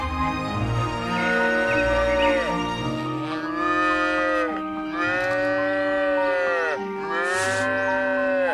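Cattle moo repeatedly in a farmyard, long loud drawn-out lowing calls, one after another, over a steady background with no speech.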